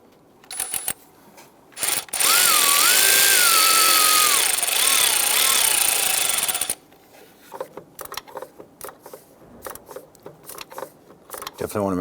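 A loud whirring power tool tightens a ground bolt on the engine of a 2011–2019 Ford Explorer with a 3.5L V6, one sustained burst lasting several seconds amid clanks and handling noises.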